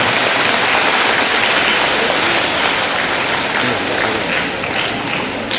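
An audience at a school motivational talk applauds a teacher, a dense, steady wash of many hands clapping, loud and close, filling the whole stretch without a break.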